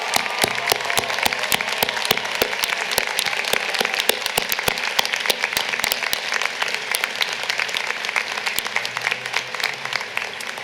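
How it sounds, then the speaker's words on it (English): Graduates' families and friends applaud at the Dickinson 2017 commencement ceremony, a large crowd producing sustained, even clapping with crisp individual claps standing out, steady and unbroken for about ten seconds. "join me in a round of applause."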